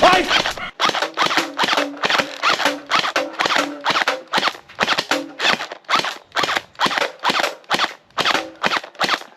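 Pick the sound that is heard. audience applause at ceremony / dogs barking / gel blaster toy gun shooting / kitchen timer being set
gel blaster toy gun shooting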